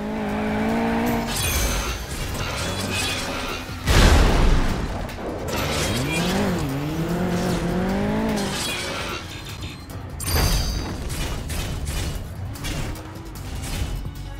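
A car in the Transformers: Revenge of the Fallen video game revs and skids, engine tones climbing and dropping between sharp crashing bursts and tire squeal, loud and busy with game effects and no talk.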